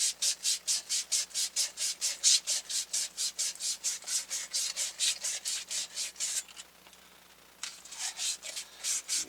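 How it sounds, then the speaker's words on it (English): Plumbing pipe is scrubbed clean before a solder joint is sweated during a pressure tank repair. The close, steady back-and-forth rubbing strokes repeat rhythmically, pause briefly, then resume. "Part of the process for good sweating pipes is clean pipes."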